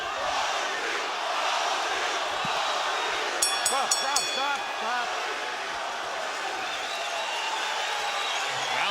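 A packed boxing arena crowd at the Shane Mosley vs. Ricardo Mayorga fight, a dense continuous roar of cheering that holds steady throughout, with a commentator talking over it.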